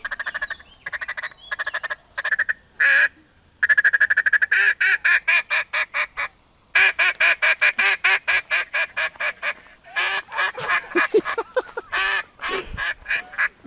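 A long run of rapid, nasal honking calls from ducks or geese, loud and close, coming in quick bursts with short pauses between them.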